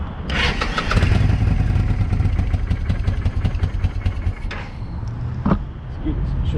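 A Kawasaki Vulcan 800 Classic VN800B motorcycle that has sat unused since 2005 runs loud and close, its engine chugging roughly and unevenly with a few revs and bursts near the end.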